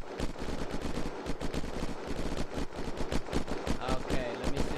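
Gunfire in the Unturned video game, rapid bursts of automatic shots crackling in quick succession, loud and sustained, with someone speaking now and then over the shooting.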